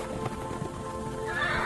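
Horses neigh and whinny over steady clip-clopping hooves, a continuous, fairly loud layered sound effect with no voices.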